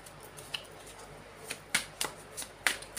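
A deck of oracle cards shuffled by hand, crisp riffling snaps and flicks in irregular bursts, close and clear with no speech.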